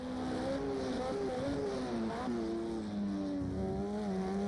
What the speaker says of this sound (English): I love the sound of these cars